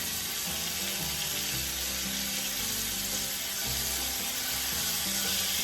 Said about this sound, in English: That's an unconventional way to stir your broccoli or your asparagus.